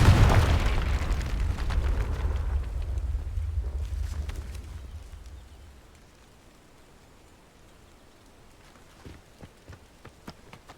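A Confringo fire spell explodes in the Hogwarts Legacy video game, a loud booming blast with crackling debris that fades over several seconds, followed by faint scattered clicks.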